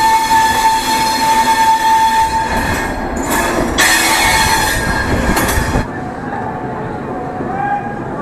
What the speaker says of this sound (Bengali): উত্তরপ্রদেশের লখনৌ জংশনে এসে এইমাত্র ট্রেন ঢুকলো